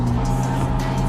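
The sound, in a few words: engine of revived abandoned car running while driving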